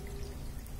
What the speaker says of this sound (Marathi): तर आता मी याच्यामध्ये पाणी वगैरे टाकते